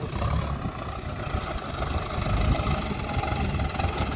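A Ford dump truck's engine runs steadily at a work site filling land, a continuous low rumble with mid-range drone, fairly close and loud, no voices.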